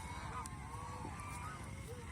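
Farm geese honk intermittently over a constant low rumble, a few calls rising and falling at middle distance with no speech.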